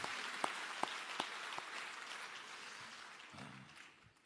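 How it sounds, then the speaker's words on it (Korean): A large audience at a national church elders' retreat applauds an elders' vocal ensemble. The dense, even clapping from the whole hall runs for several seconds, with a few sharp louder claps early on before it tapers off. "우리 앙겔로스 장로 중창단 단원에게 한 번 더 감사와 경례 박수하겠습니다"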